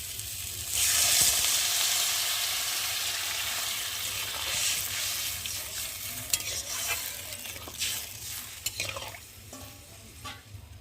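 Fried spice paste sizzles loudly in a pan as water is poured in, a steady hissing fry with stirring scrapes and clatter that settles slightly while cooking a rui fish curry.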